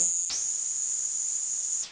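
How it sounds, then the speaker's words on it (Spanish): An Anurogryllus cricket sings a clean, continuous high-pitched trill that starts abruptly and holds steady and loud for over a second and a half. "conseguimos una grabación nítida del grillo que suena más o menos así"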